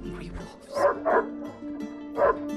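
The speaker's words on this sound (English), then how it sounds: "Goddamn dogs." Dogs barking in the video game Wolfenstein: The New Order, a few sharp barks and yips in quick bursts at mid distance, with voices and game ambience around them.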